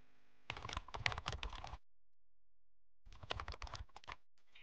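Close computer keyboard typing in two bursts of rapid, uneven keystrokes separated by a pause of silence, quiet and clean with no talking.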